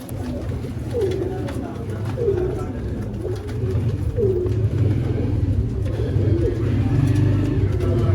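A pair of teddy pigeons cooing in soft, repeated, throaty calls close by, under a steady low background rumble with someone talking over them.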